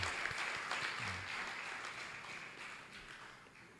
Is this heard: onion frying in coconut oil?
no